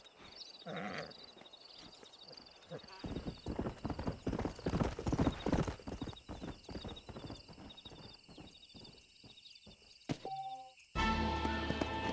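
A horse's hooves clip-clop in a steady rhythm, then a short whinny rings out near the end, with game music rising in the stallion scene from Red Dead Redemption.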